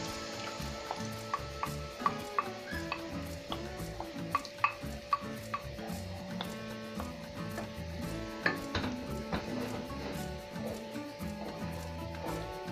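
Fried tomato sauce is stirred into sizzling ingredients in a pan for macaroni, giving a steady frying hiss with soft scraping and occasional utensil taps against the pan, with faint music running underneath.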